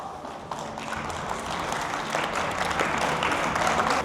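An audience applauding at the end of a two-on-two combat sports fight, steady sustained clapping from a crowd that swells slightly louder toward the end.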